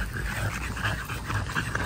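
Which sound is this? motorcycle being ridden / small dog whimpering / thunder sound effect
small dog whimpering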